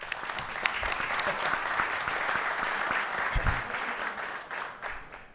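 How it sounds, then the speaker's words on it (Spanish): An audience applauds at a talk on disruptive journalism and innovation, a sustained, moderately distant patter of many hands clapping that swells and then tapers off. "un aplauso para Gastón"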